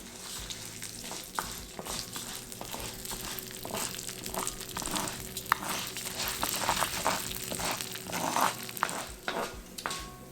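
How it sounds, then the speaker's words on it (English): Urad dal and chana dal frying in a pan, a steady soft sizzle with light crackles and occasional stirring scrapes throughout, fairly close and moderately quiet, with no voices. "we'll let these cook until the dal start turning a light golden brown"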